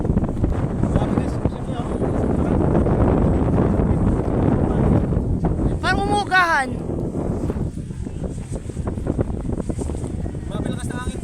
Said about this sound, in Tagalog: Grabe lakas ng hangin po dito guys.